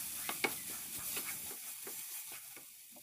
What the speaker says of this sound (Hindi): अभी यहाँ पर मैं 3 टेबलस्पून पानी का डाल रही हूँ